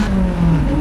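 A Lotus Elise engine pulls under acceleration on an open road before a set of corners, a steady close-up drone with a low harmonic that holds through a short burst and rises slightly toward the end.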